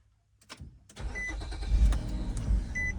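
A Nissan Murano engine cranks briefly, then catches and settles into a steady, close idle rumble, with a short electronic chime ringing twice over it.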